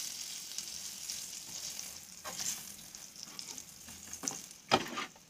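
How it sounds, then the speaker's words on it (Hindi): Surmai fish pieces fry in hot oil, giving a continuous close crackling sizzle with a few sharper pops and a brief clatter near the end, fairly quiet and without speech. "इसी तरह से इनको भी बराबर से फ्राई कर लेते हैं।"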